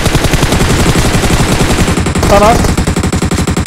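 Rapid automatic gunfire from the PUBG Mobile video game rattles in dense, continuous bursts, with a player's voice speaking briefly over it.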